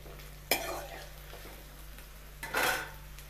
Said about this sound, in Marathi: मिरची आणि कांदे टाकलेली आहे आणि हे व्यवस्थितपणे आपण भाजून घेऊया